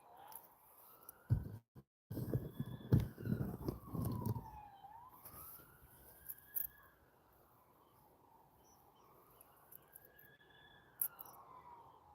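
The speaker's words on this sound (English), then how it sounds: "Sounds like we've got a lot of sirens heading that way actually at the moment." Distant police sirens wail up and down in long slow sweeps, faint beneath a brief burst of nearby rumble and clatter early on.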